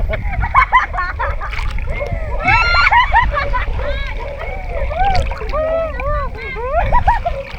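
People bathe and splash in shallow water, with steady sloshing and splashes mixed with lively voices talking and shouting nearby throughout.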